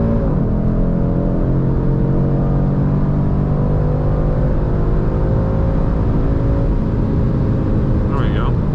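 A 2024 Audi RS3 accelerating hard on a 0-60 and quarter-mile run, heard from inside as a loud, steady engine roar with rising harmonic tones, and a voice speaking over it.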